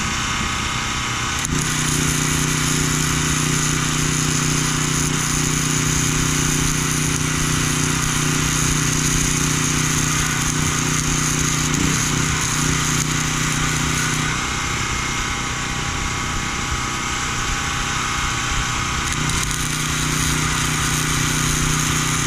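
Welding up a roll cage being installed in a vehicle, a steady loud buzzing crackle that runs almost unbroken for the whole stretch with only slight dips, no talk over it.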